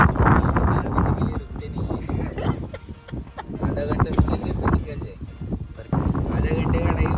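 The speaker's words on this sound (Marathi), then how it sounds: "वारा एकदम सुसाट्याचा आहे एकदम" Strong wind buffets the microphone in loud, continuous gusts while people talk over it, on the Harishchandragad mountain trek.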